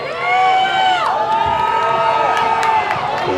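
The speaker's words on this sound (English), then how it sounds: "The crowd's getting a little into this moment of the game" Crowd at a boys' high school soccer game cheering and whooping loudly, a continuous roar of many voices with a sustained rising tone running through it.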